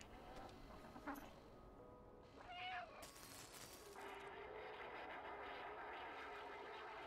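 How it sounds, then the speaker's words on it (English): A cat in the game Stray gives a couple of short, clear meows amid quiet ambient sound, with a brief electronic tone and hiss rising toward the end. "Is there a cat talking to me?"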